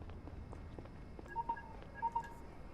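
A phone rings in the game Lacuna, a few short, faint electronic tones chirping in quick pairs over a quiet background.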